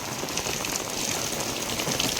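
Steady rain falls throughout on a village home, a dense continuous hiss close by and fairly loud, with no voices over it.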